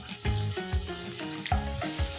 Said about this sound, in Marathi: त्यातला बारीक अर्धा कांदा आपल्याला फोडणीमध्ये घालायचा आहे